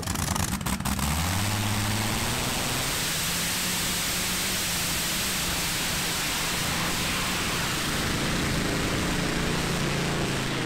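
A tractor-pulling tractor with an aircraft engine gives a loud, continuous roar filling the whole stretch, a dense rushing drone with a low rumble underneath and no pauses.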